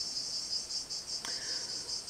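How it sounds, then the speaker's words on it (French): Insects shrilling outdoors on a summer day, described first as crickets and then corrected to cicadas, keep up a steady, high, pulsing buzz. They sound moderately near and go on alone, and a brief click falls near the middle. "Nous serons accompagnés avec le chant des cigales, non des grillons, pardon, des grillons qui étaient au rendez-vous aujourd'hui"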